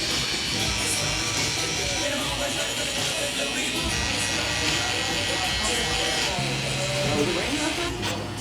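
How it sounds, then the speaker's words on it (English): Electric shaver buzzing steadily through a high-to-mid fade haircut on long top hair, a close continuous hiss-buzz that holds for several seconds, with a voice talking faintly underneath. "use the shaver, then we can go in detail and line them up"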